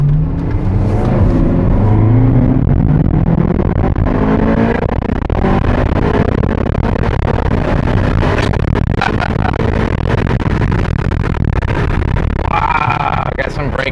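A 2010 Ferrari California on a test ride accelerating hard with rising engine revs, then braking back down, heard loud and close from inside the cabin under frequent talk.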